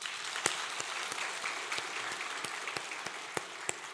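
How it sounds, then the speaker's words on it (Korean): A church congregation claps steadily for the choir, dense overlapping applause with a few sharper individual claps standing out, no talking. "수고하신 우리 찬양대 박수 한번 하겠습니다"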